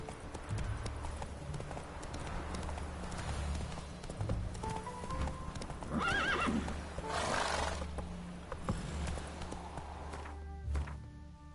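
Roach, Geralt's horse in the game The Witcher 3, trots with steady rhythmic hoof clip-clops over a low ambient bed, joined by a brief whinny and snorting partway through, fairly close and clear.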